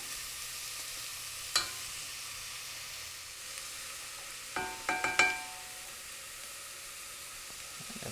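Vegetables sizzle softly in a pan over fairly high heat, a steady low frying hiss broken by a few sharp clinks of a utensil against the pan.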